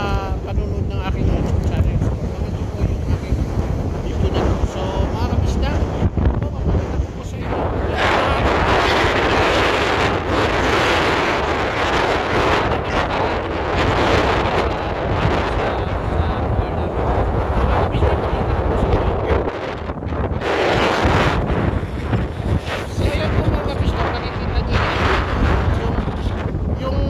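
Strong wind buffets the microphone over a steady roar of rough sea waves at Llandudno, loud and continuous throughout, with no voices.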